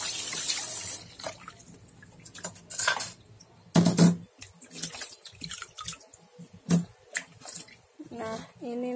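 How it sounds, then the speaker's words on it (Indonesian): Chicken wings are rinsed under a running tap in a sink, with a steady gush of water at first, then scattered splashes, drips and light clatter, and a brief voice near the end. "Kaiaknya dicuci bersih dulu."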